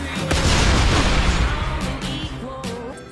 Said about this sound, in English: when your head explodes, it's not like your typical head explosion, because confetti comes out